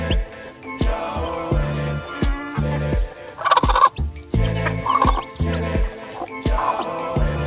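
A mother hen with freshly hatched chicks gives repeated low, throaty clucks in an uneven rhythm, close and fairly loud, with a few sharper calls among them.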